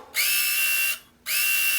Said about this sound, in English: I guess it's supposed to sound like a laser gun, but to me, it always sounded like I was at the dentist office getting my teeth drilled